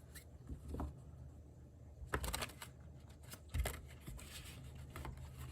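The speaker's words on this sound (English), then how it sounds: "Let's do some shuffling first" Quiet rustling and a few sharp riffling bursts of tarot cards being shuffled, close by, with soft pauses between shuffles.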